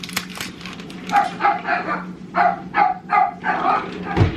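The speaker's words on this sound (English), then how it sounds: "barks every single time somebody goes to the door" A dog barks at the door, a run of about eight sharp, rhythmic barks in quick bursts, fairly close and loud, with no talking.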